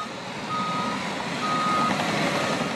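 A construction truck working on wetland trench digging at a waterfowl preserve sounds repeated reversing beeps over a steady engine rumble, moderately loud and alone without voices.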